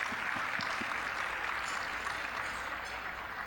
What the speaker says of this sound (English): All of our winners a round of applause.